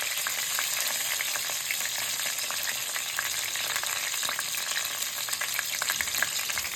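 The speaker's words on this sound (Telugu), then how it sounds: "తర్వాత అల్లం వెల్లుల్లి ముద్ద వేయాలి." Ginger garlic paste fries in hot oil with mint and curry leaves for a Hyderabadi mirchi ka salan, giving a steady, loud, close sizzle with crackling pops that runs throughout without pause and with no talking.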